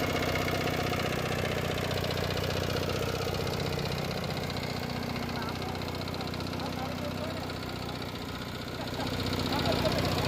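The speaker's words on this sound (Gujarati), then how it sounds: "એન્જિન પર જરા પણ લોડ નથી આવતો આટલું વજન ખેંચે છે છતાં" A small bulldozer's engine runs steadily at a cattle shed while it gathers dung, a continuous mid-pitched diesel drone with a faint knocking rumble, close and even in loudness throughout.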